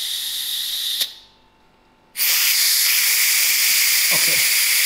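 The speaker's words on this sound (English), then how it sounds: "So now it will release the steam" Steam hisses loudly from the valve of a Bennett Read Super Chef 6 pressure cooker, a steady close roar that stops briefly and then resumes just as strong.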